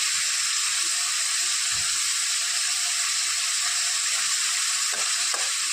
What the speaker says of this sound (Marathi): एक पाच मिनटं आपले पनीर तळायला लागणार